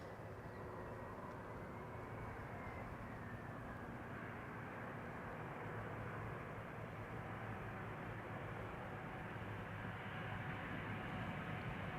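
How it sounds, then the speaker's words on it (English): A KLM Embraer 175 arriving from Stavanger comes in to land, its jet engines a continuous, fairly faint roar that swells slightly toward the end, with no voices. "This is KLM flight 1174, arriving from Stavanger, Embraer 175."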